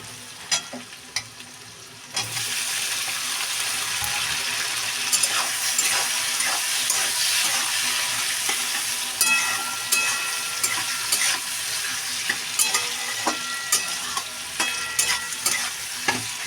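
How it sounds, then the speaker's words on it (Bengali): Onions and tomatoes fry together in a pan for a prawn-head dish, a steady loud sizzle filling the whole stretch after a quieter start, with frequent scraping stirs and spatula taps. "ভালো করে নাড়ে চাড়ে এটা মিশিয়ে নিতে হবে"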